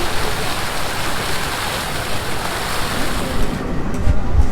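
A fountain near Sealdah metro station splashes steadily, rushing water filling the scene, a continuous broad hiss with no break and no voices.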